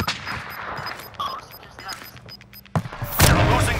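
Gunfire in the Warzone video game: scattered shots and bursts with a loud burst of fire near the end, heard under voices of players talking.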